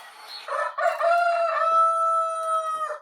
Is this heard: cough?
no